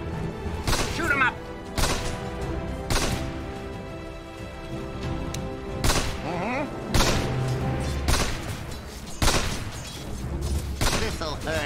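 Gunfire from a sniper video game: several loud, sharp shots and thumping booms land at irregular intervals, with a voice talking between and over them.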